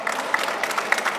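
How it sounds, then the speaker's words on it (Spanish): An audience applauds at the end of a Spanish-language tech talk on energy efficiency: a brief, dense burst of many hands clapping, fairly loud and continuous. "Le vamos a dar un fuertísimo aplauso y las gracias."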